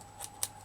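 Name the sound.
cutting material away with scissors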